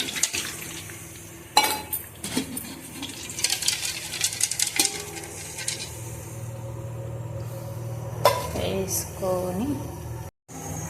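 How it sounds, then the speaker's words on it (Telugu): Drumsticks and tamarind drop into a metal pan. Several clinks and clatters sound up close, with a few separate knocks and some scraping and no speech. "వేరొక బాండి తీసుకొని దాంట్లో మునక్కాయలు అండ్ చింతపండు కొంచెం వేసుకొని"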